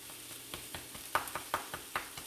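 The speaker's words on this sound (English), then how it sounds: "And now we're going to saute this for about 20 seconds." Spices sauté in a hot pan for a chicken tikka masala, giving a faint sizzle broken by a string of soft, quick stirring scrapes and clicks, with no talking.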